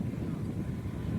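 Strong, steady wind buffets an outdoor airfield at a French radio-controlled model aircraft competition, a continuous low roar that stays loud and even throughout with no voices.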